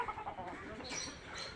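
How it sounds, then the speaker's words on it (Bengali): Native chickens cluck softly at a short distance, a few brief clucks and chirps over light outdoor background noise. "দেশি মুরগিগুলো এত ভদ্র, মুরগিগুলো পালাচ্ছে না"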